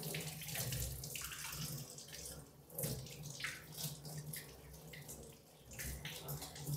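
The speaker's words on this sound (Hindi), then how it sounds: "ये तो इसको मैं धो के दिखाती हूँ" A gas stove burner soaked overnight in vinegar is rinsed under running tap water, giving a continuous splashing gush with slight surges as it is turned under the stream, fairly soft overall.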